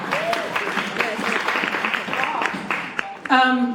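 An audience claps during a drag performance critique, a steady wash of applause under overlapping talk and cheers, ending with a brief sharp burst of louder noise.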